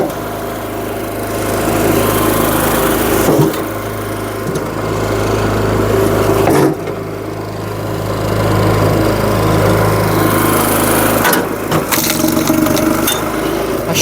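A SuperSplit kinetic wood splitter's small gasoline engine runs close by, with a loud, steady buzzing drone. It dips briefly at a few points as the load changes, then recovers to full running speed.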